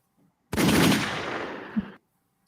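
A single loud burst of rapid gunshots, a sound-effect volley lasting about a second and a half, close and dense with a sharp final crack before it cuts off to near silence.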